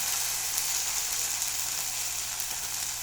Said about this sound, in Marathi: आता तेल तापलेले जिरे टाकूया